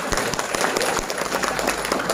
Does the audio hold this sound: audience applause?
yes